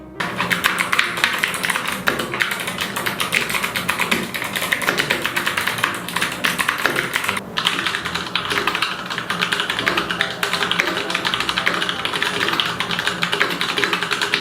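Rapid, continuous clicky keystrokes from an Abko Hacker K510 keyboard with Kailh optical click switches, dense and close, sustained throughout with no pauses.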